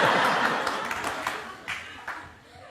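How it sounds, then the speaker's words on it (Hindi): Studio audience applause during a TV interview, a burst of clapping that starts full and gradually thins out into a few scattered claps before fading. "कितनी तालियां पड़ी देखिए"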